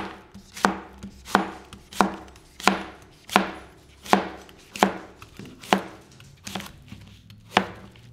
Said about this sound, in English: you're just gonna chop them just like this